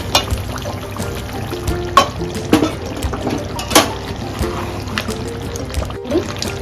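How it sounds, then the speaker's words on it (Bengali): Rinse water is poured into a pan of cooking spices for malai paneer, making a soft trickle with scattered clinks and taps close by. "সামান্য ধুয়ে জলটা দিলে মশলাটা লেগে যাচ্ছে।"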